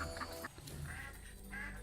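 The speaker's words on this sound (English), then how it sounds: "We got a little duck." A small duck in the game Soulframe gives a quick quack amid quiet game ambience, a short faint call followed by a sharper burst at the very end.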